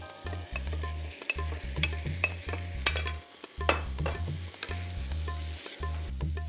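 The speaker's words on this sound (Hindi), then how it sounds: "अब ये गया हमारा झींगा।" Shrimp frying in a curd masala for a shrimp biryani, with a spoon stirring and scraping the pan in steady repeated strokes over a soft background sizzle, close and fairly quiet.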